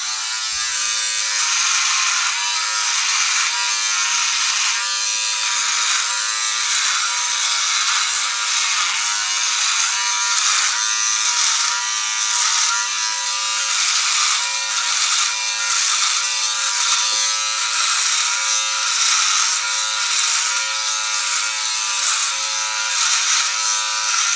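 A Philips OneBlade electric beard trimmer set to 1 mm buzzes continuously and loudly up close, its steady motor drone wavering slightly as it moves through the beard, with no speech over it.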